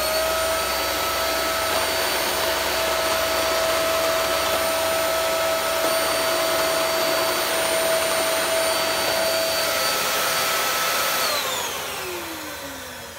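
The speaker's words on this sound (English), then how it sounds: "The brush roll on it is not working very well at all. It is moving all over the place. It sounds absolutely terrible." A 2000 watt Piranha vacuum cleaner with a faulty brush roll runs loud and steady with a high-pitched whine, then winds down near the end as the motor is switched off.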